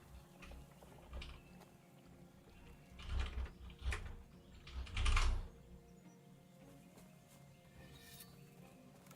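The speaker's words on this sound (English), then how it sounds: "my typing is probably really loud" Quick bursts of computer keyboard typing, fairly close and clicky, come in a few uneven clusters over a quiet room hum, with no talking.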